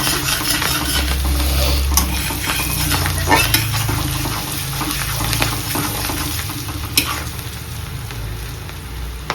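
Green chili and sliced ginger fry steadily in a hot pan as a cook prepares Assamese makhni chicken kabab, giving a continuous close sizzle with occasional stirring scrapes and clinks.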